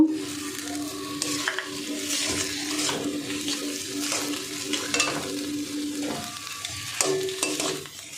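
A frying onion mixture stirred with chopped coriander leaves for an egg bhujia curry. A continuous sizzle plays beneath soft, rhythmic scrapes of a spoon in the pan, close by and with no voices.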